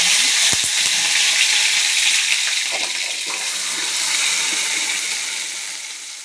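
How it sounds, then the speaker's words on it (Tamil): Mustard seeds splutter and crackle in hot sesame oil, a steady broadband hiss with a few sharp pops near the start, close and alone with no talking. "நல்லெண்ணெய் ஊற்றி கடுகு போட்டு நல்லா பொரிஞ்சிட்டு"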